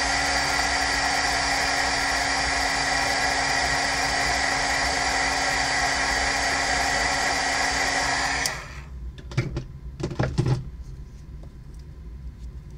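A heat tool warming paint for scratch-off cards blows with a loud, steady whine and rushing air for about eight seconds, then cuts off, followed by a few quiet handling clicks and thumps.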